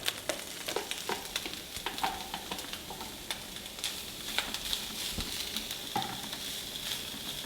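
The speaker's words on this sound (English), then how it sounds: "We're going to saute the carrots with the green onions until the carrots become soft." Shredded carrots and green onions sauté in a pan for a crustless quiche, a soft, even sizzle with frequent light clicks and scrapes of a utensil stirring, fairly quiet and without talk.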